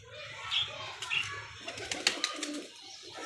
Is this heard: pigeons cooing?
yes